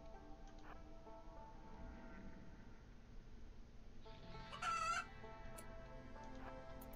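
A chicken in a video game gives short clucks over a quiet game soundtrack, with a brief louder burst midway, faint overall.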